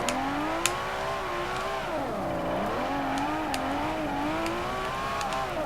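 A Lamborghini Sesto Elemento engine in Forza 4 drones steadily while drifting, its pitch dipping and rising as the revs swing, with faint clicks and ticks and no talk.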